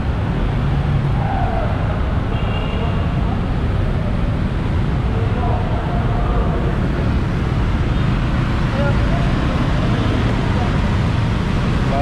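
Dense road traffic on EDSA in light drizzle, a constant low rumble of engines and tyres heard from inside a moving vehicle, steady and loud throughout, with a voice speaking over it.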